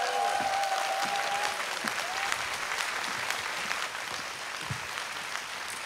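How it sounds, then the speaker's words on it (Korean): Studio audience applause for two MCs taking the stage at an MBC talk concert, a steady dense wash of many hands held at an even level for several seconds, with a faint tone and light sounds in the background. "큰 박수 부탁드립니다"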